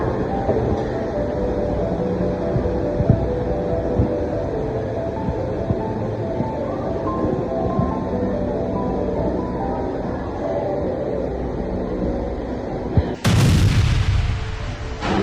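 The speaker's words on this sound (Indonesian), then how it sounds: "Bu, apakah suara itu dari bom?" Bombs exploding over a city, a continuous low rumbling roar of distant blasts for many seconds, ending in a sudden loud close burst near the end, no voices.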